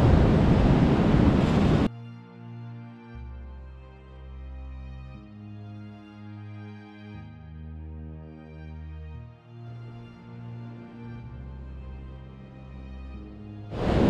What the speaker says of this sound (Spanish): estamos por la playa, vamos por la arena y estamos sintiendo la fuerza del mar.